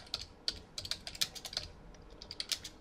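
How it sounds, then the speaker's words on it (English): Fingers typing a chart title on a computer keyboard in Excel, a close, quick irregular run of crisp key clicks with a few short pauses. "I'm just highlighting that text, and I'm going to type over it domestic"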